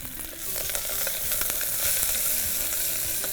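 Half a bunch each of mint and coriander leaves sautéing in a tempered pan of oil make a constant crackling sizzle, dotted with scattered sharp clicks and spatters as the leaves are stirred.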